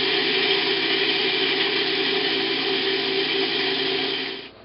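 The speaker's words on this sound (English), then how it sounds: "put in your Cuisinart and break it up so it's a fine mealy" A Cuisinart food processor runs steadily, breaking pie crust mixture into a fine meal, its motor whirring loud and close with an even drone before spinning down and stopping at the end.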